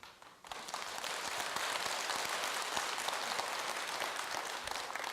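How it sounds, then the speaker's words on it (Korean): An audience at a Buddhist dharma talk at Jogyesa temple breaks into sustained applause, a dense, steady wash of many hands clapping together, fairly distant and continuous after a brief quiet start. "그래, 이 대목에서는 박수 받을 줄 알았어."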